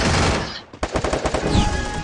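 Rapid bursts of gunfire with a brief lull, then a dense stream of automatic shots and sharp cracks, loud and close in the game Free Fire.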